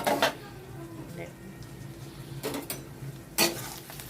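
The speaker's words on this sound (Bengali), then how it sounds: "দেখো এবার একটু ঢাকা দিয়ে দিই হালকা লাল লাল ভাজা হয়ে যাবে তারপর এবার ঢাকনাটা খুলছি" Onions fry in a pan as the lid is lifted off, giving a soft, steady sizzle broken by three close metallic clanks of the lid and utensils.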